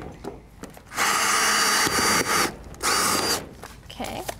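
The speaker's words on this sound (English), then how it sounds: "one of the last things that we need to do is pre-drill some pilot holes" A power drill whirs in two short bursts, close by, drilling pilot holes to attach a greenhouse to its base, with brief pauses and light clicks between them.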